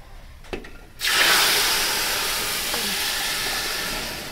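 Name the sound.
hot water poured into rice for biryani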